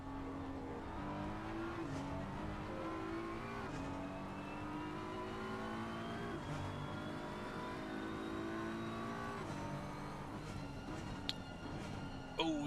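BMW race car engine in a sim racing game at Oulton Park, revving and rising in pitch through gear changes, steady and fairly loud with a commentator talking over it.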